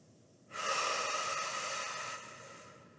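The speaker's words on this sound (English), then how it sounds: "So as you breathe in and breathe out." One long, deep breath drawn in close to the mic, a steady airy rush lasting a couple of seconds before fading, during a breathing exercise for breathlessness management in pulmonary rehabilitation.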